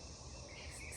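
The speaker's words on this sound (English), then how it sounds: "I don't know if you guys can hear the cicadas in the background" Cicadas in a Georgia garden drone outdoors as a faint, steady high-pitched buzz that holds unbroken through a brief moment, with no voices.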